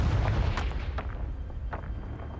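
Loud booming bursts from a Confringo fire spell in Hogwarts Legacy pile up over a constant low rumble, a few sharper cracks standing out in quick succession, with no talk.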